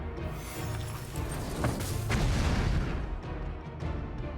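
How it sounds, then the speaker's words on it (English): In the turn-based rogue-lite RPG Hand of Merlin, a thrown bomb goes off with a heavy, booming blast that swells over a dense, rumbling battle din and then gradually thins out. "And then hit him with the bomb."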